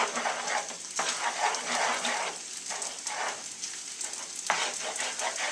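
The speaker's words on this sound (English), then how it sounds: "Scramble those eggs up, let it cook nice and easy." Eggs scrambling in a hot pan for bacon, garlic and egg fried rice: a steady crackling sizzle with bursts of scraping as they are pushed around, close and moderately loud, no voice heard.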